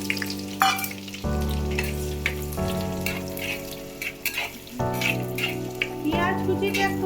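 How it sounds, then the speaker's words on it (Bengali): Chopped onions with bay leaf and dried chilli fry in a clay pot, giving a steady close sizzle with soft stirring scrapes throughout, while a low hum shifts in the background. "পেঁয়াজ কুচিটা একটু লাল লাল করে ভেজে নেব।"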